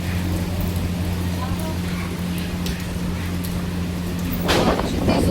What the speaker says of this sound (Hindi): बहुत ज़ोर से बारिश हो रही है और सारे में पानी भर गया इधर